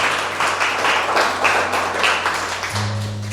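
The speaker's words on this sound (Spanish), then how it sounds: "¿Cuánto le dan un aplauso al Señor?" A church congregation claps in a dense, even burst of applause from many hands, loud and close, fading slightly toward the end.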